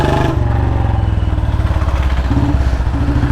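A Royal Enfield Bullet Standard 350 runs close by, its single-cylinder engine and exhaust making a loud, steady low thump with a faint rise in revs near the end and no voices.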